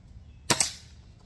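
One sharp shot from a Daisy Model 1999 BB rifle fired at a can outdoors, a crisp pop followed almost at once by a second snap from the hit, loud and alone against a quiet background.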